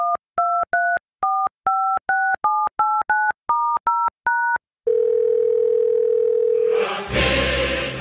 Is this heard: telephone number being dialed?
yes